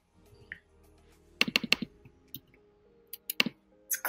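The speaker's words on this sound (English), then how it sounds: "So just click on it." Computer mouse clicks while editing a landing page, heard as sharp, close clicks in quick clusters: a burst of five or six, then a couple of isolated ticks and another short burst near the end. No one speaks.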